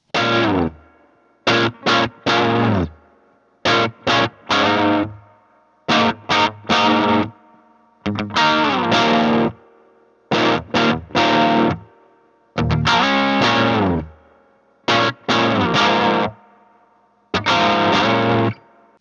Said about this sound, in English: I plugged my Gibson Les Paul right into my Box AC15